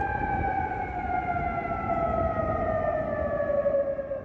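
Air raid sirens wail steadily across Kuwait City during an incoming missile attack, a loud sustained tone gliding slowly downward over a dense rumbling background.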